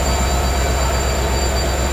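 A passenger train on the Bangalore to Murdeshwar route rumbles steadily along the rails, a loud continuous roar with a faint high metallic whine riding on top.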